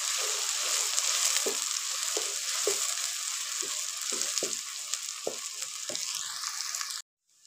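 Onions frying in hot ghee for a pea and turnip curry, a bright, dense crackling sizzle with frequent spatula scrapes, stopping abruptly near the end.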